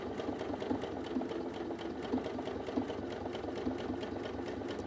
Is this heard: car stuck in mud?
no